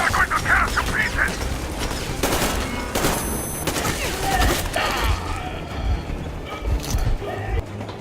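Rapid gunfire rattles through a dense fusillade in the video game Metro Exodus, with mechanical clatter and game effects mixed in. The shots are loud and close and keep going without a break.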